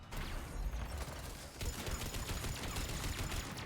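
Sustained turret gunfire from the video game Mass Effect 3, a dense rapid fusillade of shots continuing loudly throughout with a brief dip midway, close and dominant.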